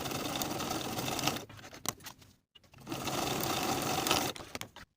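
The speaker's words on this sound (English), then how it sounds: "I'm going to baste the open raw edges with a 5/8 inch seam allowance." A sewing machine bastes the raw edges of vest welt pockets in quick close bursts of rapid stitching, with a short pause in the middle before it runs again.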